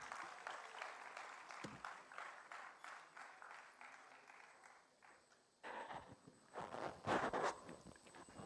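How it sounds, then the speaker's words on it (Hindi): A seated audience at a literary foundation inauguration session applauds the chief guest, scattered rather sparse claps that dip briefly and then swell again into a louder burst near the end, heard at a low overall level. "तालियां प्लीज़।"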